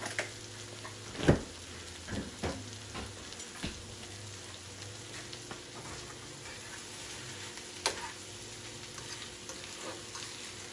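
Butter sizzles steadily in a frying pan while a Jamaican bully beef and rice meal cooks, a close, even hiss broken by a few sharp pops and clicks.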